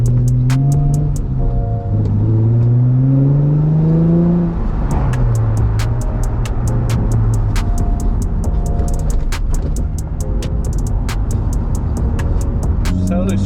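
A Nissan 350Z with welded differentials on a test drive: steady engine drone with shifting revs, overlaid by rapid metallic ticking and rattling from the drivetrain, while people talk throughout.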